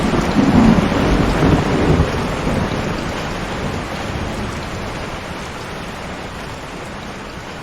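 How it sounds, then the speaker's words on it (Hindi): Heavy rain pours down in a steady, dense hiss of drops, loudest at the start and easing only slightly as it continues, with no voices. "पिछले आधे घंटे से जोरदार बारिश हो रही थी।"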